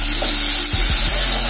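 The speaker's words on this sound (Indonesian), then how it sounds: "kita cemplungin bumbu." Spice paste dropped into hot oil for a vegetable lodeh hisses into a loud, continuous sizzle, with a few soft stirring knocks partway through.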